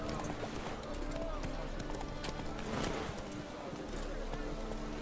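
Hooves of Roach, the horse in The Witcher 3, drum a steady clip-clop rhythm under continuous game music and ambience, with a voice calling out briefly over it.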